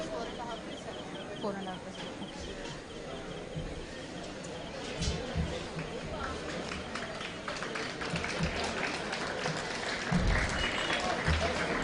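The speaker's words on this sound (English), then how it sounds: "please give a big round of applause for Arav." An audience claps for a child performer at a Sri Krishna Janmashtami celebration, a dense, moderately loud spread of applause that swells toward the end, with voices mixed in.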